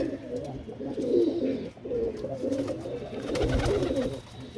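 Pigeons coo continuously in low, throaty warbling phrases, several birds overlapping and close by, with no talking.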